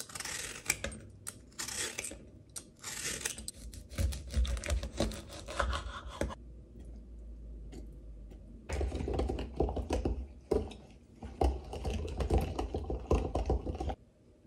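A half lemon is peeled and then sliced into rounds with a knife, giving close scraping and rubbing strokes followed by bursts of cutting, with a quiet pause between them.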